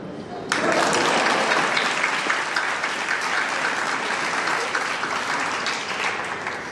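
Loud, sustained applause from a graduation ceremony audience starts abruptly and continues steadily, a dense wash of many hands clapping together.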